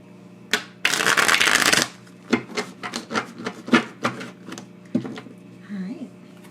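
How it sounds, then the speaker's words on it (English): Tarot cards shuffled by hand: a loud burst of riffling, then a run of separate soft card slaps and rubs, close up in a quiet room. "I did pre-shuffle these already, so let's just get one quick shuffle and then we can get into it."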